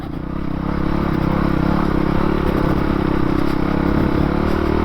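A 2019 Honda CRF450L dual-sport motorcycle ridden off-road on an OHV trail, its engine droning loud and steady throughout with a dense low rumble, light clatter and rattling from the rough terrain.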